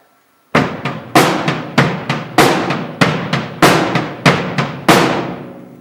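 A drum kit plays a simple beat of sharp, ringing snare hits on beats two and four with a low bass drum kick underneath, evenly spaced and loud, with no talking.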